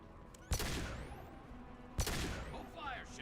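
Two sharp, loud pistol shots from a new sidearm in Mass Effect 2, spaced about a second and a half apart, each with a bright crack and a ringing sci-fi tail over low background noise.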